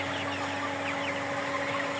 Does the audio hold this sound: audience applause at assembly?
no